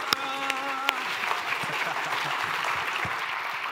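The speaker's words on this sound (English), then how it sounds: "If we can just give a round of applause as David appears behind the curtain" Audience applause at an Agile NZ 2015 conference presentation as David Chilcott steps out from behind a curtain; a steady wash of clapping with a few sharp claps at the start and a short voice at the beginning.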